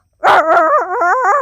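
A voice imitates an angry dog fighting, giving a loud, continuous snarling growl with a sharp bark-like onset, lasting just over a second and heard alone.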